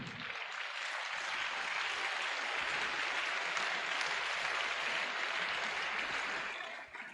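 A church congregation applauding a pastor at a New Year's Eve vigil, steady dense clapping from many hands that holds evenly for several seconds before tapering off at the end.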